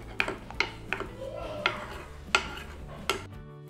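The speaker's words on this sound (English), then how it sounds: "Every 10 to 15 minutes we need to scrape the milk solids that keep accumulating at the sides of the pan and scrape it back into the milk" A metal spoon scrapes and clinks against the sides of a pan of slowly boiling milk while Basundi cooks, six or so distinct sharp knocks spaced irregularly over a soft bubbling background, no talking.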